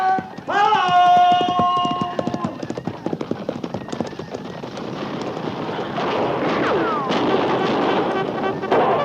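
Horses gallop in a Wild West skirmish, with rapid rhythmic hoofbeats building under a rising din of what sounds like gunfire and shouting, loud and close throughout.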